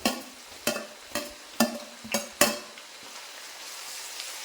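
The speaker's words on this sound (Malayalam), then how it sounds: "അപ്പോൾ ഇഞ്ചി പകുതി മൂപ്പായപ്പോൾ നമ്മൾ വെളുത്തുള്ളി ഇട്ട് കൊടുക്കുക." Ginger, garlic and green chilli fry in sesame oil while a utensil stirs the pan, giving five or six regular scraping clinks over a soft, steady sizzle.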